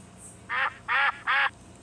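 Three evenly spaced, loud duck quacks ring out close to the listener, each short and nasal, with quiet between them.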